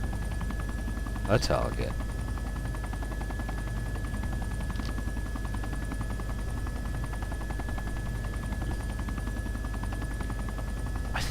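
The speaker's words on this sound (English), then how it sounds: "I think an Apache helicopter in DayZ is a bit over the top" Steady, loud rotor drone of an Apache attack helicopter in the DayZ game fills the whole stretch, with a short sharp burst early on and someone talking over it.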